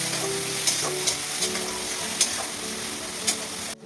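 Garlic, nigella seeds and green chili frying in oil, with a dense steady sizzle and a few sharp spatula knocks close by, ending abruptly.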